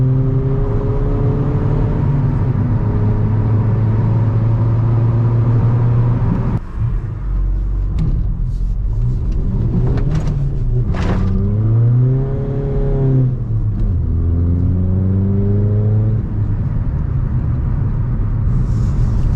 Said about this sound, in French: On va attendre que cette voiture-là elle passe.